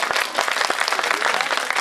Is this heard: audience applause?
yes